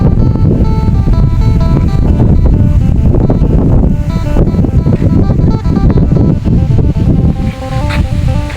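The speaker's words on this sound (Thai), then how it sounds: "ลมเย็นสบาย" Strong wind buffeting the microphone at a hilltop viewpoint above Pakse, Laos, a loud continuous roaring rush with gusty fluctuations and faint tones underneath, no talk.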